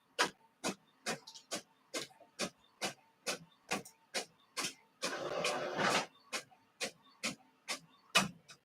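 An inkjet-style printer running through multiple pages, producing a steady, evenly spaced series of sharp mechanical clacks with a brief hissing whir partway through, fairly faint and with no speech.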